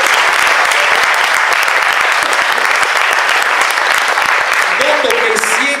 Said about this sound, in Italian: Noto che siete un po' timorosi negli applausi